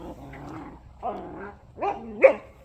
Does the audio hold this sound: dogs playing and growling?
yes